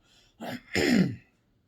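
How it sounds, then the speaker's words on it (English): Someone clears their throat up close in two quick, rough bursts, the second longer and harsher, then silence. "I just couldn't stop coughing"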